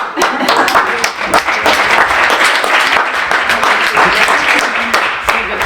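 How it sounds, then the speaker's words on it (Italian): A small audience at an Italian science café talk on city plants breaks into close, loud applause, individual claps distinct within the crowd, swelling and dipping slightly over a few seconds. "Facciamo anche un applauso."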